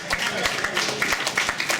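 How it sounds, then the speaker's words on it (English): An audience at a Mount Royal federal election campaign event briefly clapping for a named guest, a dense, even patter of hands that lasts under two seconds, with voices mixed in. "Well, let's clap him."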